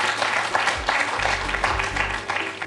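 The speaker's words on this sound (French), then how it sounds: "On peut les applaudir tous les deux" A studio audience on the French quiz show Questions pour un champion applauds steadily, dense clapping close and sustained throughout, with a low musical hum underneath.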